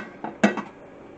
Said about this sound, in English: So we're going to put the lid on